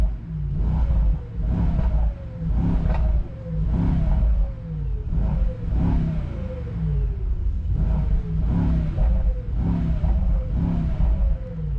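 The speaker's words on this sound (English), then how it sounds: "As soon as you switch it to sport, you have the V8 firing up" Mercedes-AMG GT63 hybrid V8 revving in Sport mode while parked: a series of loud, close repeated throttle blips, each rising and falling, with short pauses between them.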